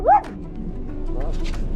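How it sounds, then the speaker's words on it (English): A couple of dogs playing on a windy beach, with one short yelping bark close by followed by faint whimpering sounds against a steady rush of wind. "There's a couple of dogs in there having play at the moment."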